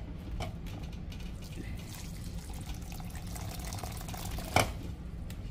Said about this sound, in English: I'm gonna try and pour that, pour some in here